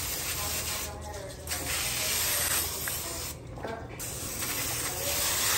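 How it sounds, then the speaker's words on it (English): Non-stick cooking spray hisses from an aerosol can in two or three bursts while cauliflower pizza crust is being prepared, with steady background noise between the sprays. "Non-stick spray."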